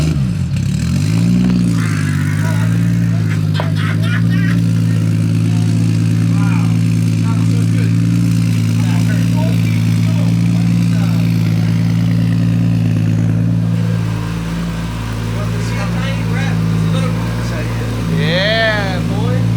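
A built 1JZ engine swapped into a Nissan 350z runs loud and close on its first start-up, with a steady low idle, rising revs and mechanical clatter, while people talk excitedly over it.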